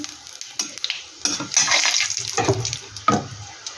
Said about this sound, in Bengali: এখানে কটা জিরা ফোড়ন দিয়ে দিচ্ছি